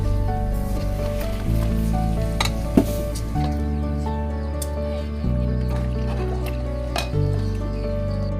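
Washed rice poured into a large picnic cooking pot already sizzling with green chilies, steady frying crackle with a brief splashy burst, over a continuous tonal background.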